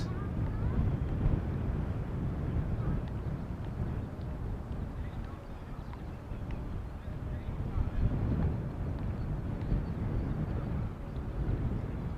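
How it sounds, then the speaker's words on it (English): Wind pounds on a camera tripod outdoors at Amsterdam Schiphol Airport, a steady low rumbling buffet with dull thumps and vibrations that fill the whole stretch. "there are a lot of vibrations coming through to the camera because the wind is pounding on the tripod"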